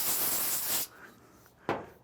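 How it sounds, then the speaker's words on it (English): Cooking spray from an aerosol can hisses in a steady burst of about a second for greasing a pan before smoked chicken nachos on a Komodo Kamado grill, then stops, with a second short, sharp spray puff close by. "Any kind of cooking spray will definitely help."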